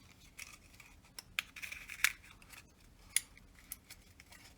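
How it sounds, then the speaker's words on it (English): Paper tabs of a Dog Man Cubles papercraft figure being folded down by hand, giving scattered faint crisp creases and crinkles with a few sharper snaps, close and quiet with no talking. "I'm going to fold down all the tabs to begin with"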